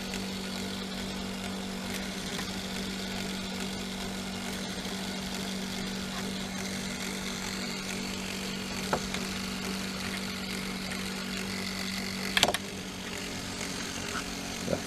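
A homemade brushless DC motor runs steadily with several rotors synchronized, giving a continuous low hum and faint whirring at moderate level, broken by a few brief clicks near the end.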